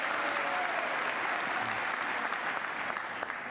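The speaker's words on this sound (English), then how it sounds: "Let's give Lester a hand." An audience at the 2011 Mississippi State of the State address applauds retiring Commissioner of Agriculture and Commerce Lester Spell, a dense, steady round of clapping that lasts throughout and thins slightly toward the end.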